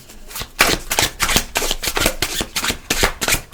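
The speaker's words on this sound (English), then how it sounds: "I like the way these shuffle." Tarot cards being shuffled, a run of crisp, rapid riffling bursts with short pauses between them, close and fairly loud with no talking.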